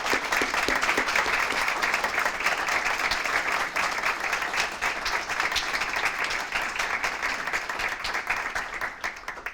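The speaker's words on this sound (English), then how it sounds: "So let's give our hero unit a round of applause." An audience at an anniversary ceremony applauds the HERO unit, a dense, steady round of clapping that holds for about ten seconds at an even level and fades slightly toward the end.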